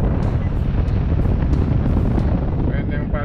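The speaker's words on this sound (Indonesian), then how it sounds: "Sekarang kita tes fan yang paling besar ya bro." Air conditioning blower of a 2016 Honda HR-V E CVT running at its highest fan setting, a loud steady broadband whoosh of rushing air filling the cabin throughout, with faint tonal whines near the end.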